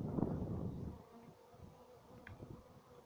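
Honeybees buzz close by around a hive, a dense droning hum that is louder at first, then thins to a softer, scattered buzzing.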